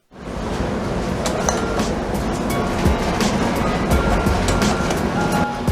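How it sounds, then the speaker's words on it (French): A metro train in Belgium rumbles loudly and continuously, with rattling and rhythmic clicking of wheels on rails close by throughout. "Et on s'enfonce dans le métro"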